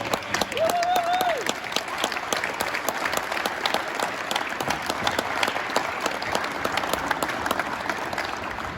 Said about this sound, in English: You guys stand up and give them a huge round of applause